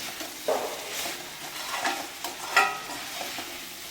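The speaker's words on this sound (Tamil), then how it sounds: "பன்னீர் சேர்த்து நல்லா மிக்ஸ் பண்ணிடுவோம்" Paneer and capsicum stirred in a frying pan, with a soft sizzle under a few scraping strokes and light clinks of the utensil, close and moderately quiet.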